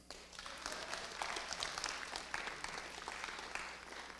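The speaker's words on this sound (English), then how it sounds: "Give her a round of applause." Audience applause at a school's 8th grade family and student night, a faint, distant patter of many hands clapping steadily for a few seconds.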